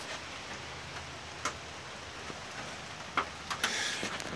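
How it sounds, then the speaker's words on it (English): Steady cold rain patters outside, falling on a parked Plymouth, with occasional louder drips and taps on a surface, a constant soft hiss throughout. "I can hear it raining out there."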